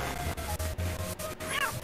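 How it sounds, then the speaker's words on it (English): A cat in the video game Wonder Glade gives a short meow near the end, set over busy, looping game music and sound effects. "There's a cat."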